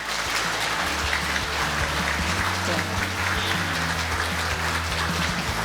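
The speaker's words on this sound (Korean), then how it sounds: "큰 박수로 맞아주시기 바랍니다" Sustained audience applause at a policy concert stage event welcomes a professor. The clapping is steady and dense, filling the whole stretch at an even loudness, with voices mixed in.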